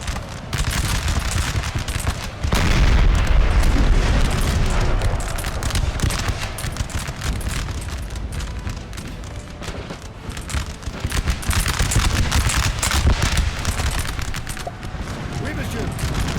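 Cannon artillery fire in the Napoleon: Total War strategy game, a dense, continuous barrage of loud booms and crackling volleys rolling on without pause.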